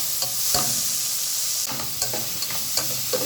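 Onions and tomatoes fry together for masala dosa filling, hissing steadily as a spoon stirs and scrapes the pan in several sharp strokes, close and clear with no talk.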